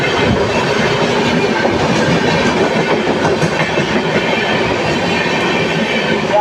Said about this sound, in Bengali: The killer Coalfield Superfast Express passing with slow steps due to caution.